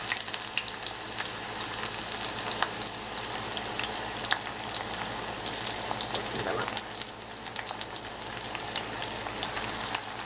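Onions sizzling and frying steadily in hot mustard oil in a pan, a continuous close crackling hiss with small pops throughout, no voices, for a cabbage pulao.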